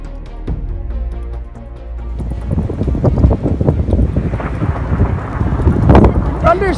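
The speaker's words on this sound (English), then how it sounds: "Thunder snow." A thunder snow storm in Boston, with strong wind gusts buffeting the microphone and a deep, rolling rumble building up loud and close.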